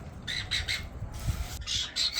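A blue pet bird at a bird boarding home in Bengaluru gives a series of harsh, close squawks, roughly five short shrill bursts in quick succession over a quiet room.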